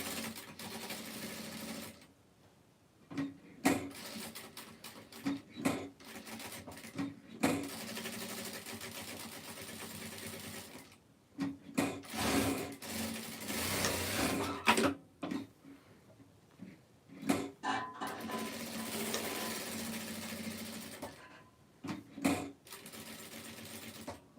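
A sewing machine runs in repeated bursts, stitching around the front and back of a shoe upper and leaving the top open. Its fast mechanical whir starts and stops, with short pauses between runs and no talk.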